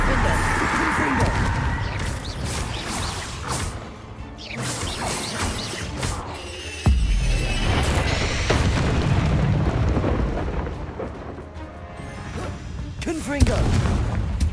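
Repeated Confringo fire-spell blasts in the video game Hogwarts Legacy, loud booming and crashing impacts in quick succession over dense combat noise, with sharp hits around seven and thirteen seconds and a continuous rumbling background.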